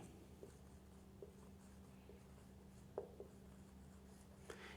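Someone writes a short phrase on a board, faint sparse taps and scratches over a steady low room hum in a quiet classroom, no talk.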